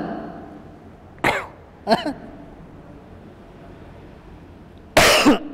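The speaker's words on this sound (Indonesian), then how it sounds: "ini masih agak batuk-batuk, masih sisa-sisa" Three separate bursts of coughing, harsh and close, spaced several seconds apart against a quiet background.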